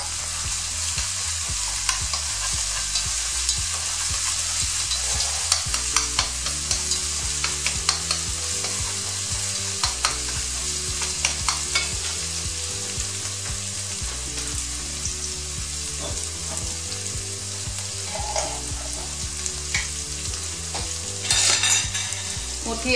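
Sichuan tofu stir-fries in a pan with chili sauce, giving a steady loud sizzle throughout, punctuated by repeated clicks and scrapes of a utensil stirring, and a brief clatter near the end.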